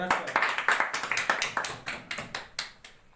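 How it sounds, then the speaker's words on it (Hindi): Loud, fairly sparse clapping from a gathered audience at a business seminar hall, separate sharp hand claps in an uneven rhythm that thins out toward the end. "एक जोरदार ताली।"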